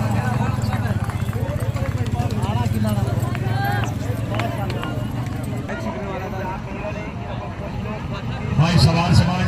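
Horses gallop past at a tent-pegging display during a Punjabi village fair. Hoofbeats drum under a loud announcer speaking over a PA system, with a crowd noise bed and a brief swell near the end.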